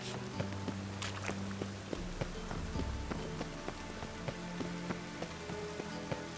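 Steady rain patters on city streets in The Witcher 3, a dense wash of drops with scattered sharper taps and a low music bed underneath, no talking.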